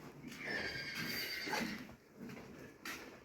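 Horse foals neighing and whinnying loudly at close range, one long rising call followed by a shorter whinny near the end, with faint hoof clip-clop underneath and no speech.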